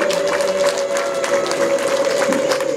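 Women at a wedding clap in a brisk, dense burst of applause that sounds close and lively and holds steady with no pauses.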